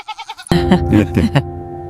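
A goat bleats several times in quick wavering cries, loud and close, with another animal's fainter calls just before and a steady low hum underneath.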